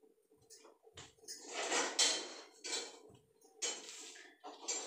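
Roasted coconut being stirred into a dish with a utensil, giving a few close, uneven scraping and clinking strokes against the cookware, with short pauses between bursts.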